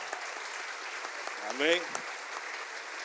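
A church congregation applauds a sister during a celebration service, a soft, steady patter of clapping under a brief spoken word from a man.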